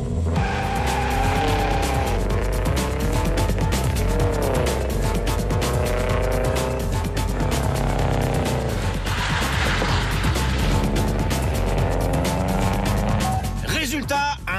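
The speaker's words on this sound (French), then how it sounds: "Résultat, un premier dérapage de 12 mètres" A car drifting in the Bullrun USA 2009 challenge, its engine revving and tires squealing loudly and continuously as it slides, with a voice talking over it.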